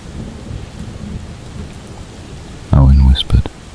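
Steady rain patters softly in the background, then a sudden loud, close crack of thunder booms and rolls briefly before fading near the end.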